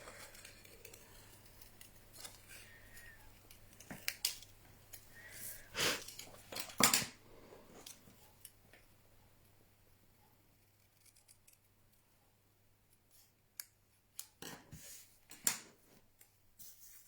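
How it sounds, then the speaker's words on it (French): Scissors snip around a Christmas bauble decoration in a quiet room, a series of close, crisp cuts bunched together with short pauses, then a few lighter snips near the end. "Et là, je vais venir couper comme ceci. Voilà, tout autour."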